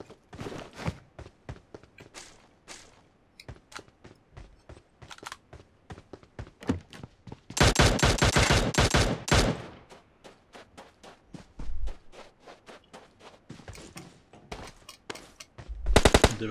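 Gunfire in a PUBG match on the Miramar desert map cracks out as rapid automatic bursts and single shots, with one long sustained burst in the middle and a few dull thuds, with no voices over it.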